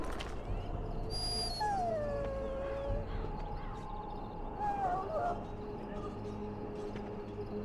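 A dog whimpers and lets out drawn-out howls in the fantasy video game Dragon Age: Origins, several wavering cries rising and falling over a steady background hum, fairly close.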